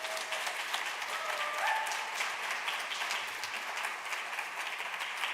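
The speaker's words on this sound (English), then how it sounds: "let's give another round of applause for our Special Initiatives team" Audience applause at a presentation on justice for Black women, girls and femmes: a steady, dense round of clapping that holds at an even level throughout, with a few faint whistles above it.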